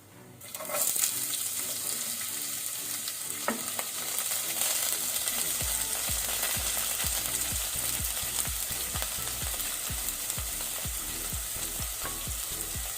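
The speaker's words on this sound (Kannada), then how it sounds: "ಈಗ ಇದನ್ನು ಒಳ್ಳೆ ರೀತಿ ಬ್ರೌನ್ ಆಗೋ ತನಕ ನಾವು ಮೀಡಿಯಂ ಟು ಹೈ ಫ್ಲೇಮಲ್ಲಿ ಫ್ರೈ ಮಾಡ್ಕೊಳ್ಬೇಕು" Onions, salted, frying over medium-high flame after garlic in a pan, a loud steady sizzle running throughout with a regular series of soft stirring scrapes, no voices.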